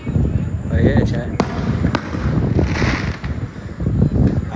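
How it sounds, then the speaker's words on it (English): Fourth of July fireworks going off outdoors, several sharp distant bangs and cracks standing out from a steady rumble of wind and crowd noise, with a person talking throughout. "now you can see me in the background of the fireworks, because it's behind me now"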